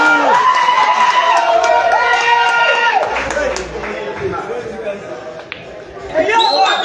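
A crowd at a pool match cheering and clapping downstairs, a steady roar of joyful voices running throughout beneath a commentator talking loudly over it.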